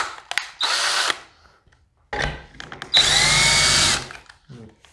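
Handheld power drill spins a cheap screw extractor in reverse against a stripped screw, two loud whirring bursts of a second or more each separated by short clicks and pauses, up close.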